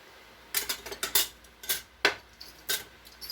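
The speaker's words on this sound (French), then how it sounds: "Je coupe mes oignons en lamelles" A knife slicing onions into strips on a cutting board for a paneer biryani, heard as crisp, close chops with an irregular rhythm and short pauses between them.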